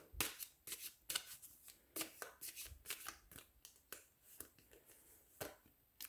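Small oracle cards being shuffled by hand, a run of quick papery riffles and flicks in uneven bursts, close and fairly soft, with no voice over them.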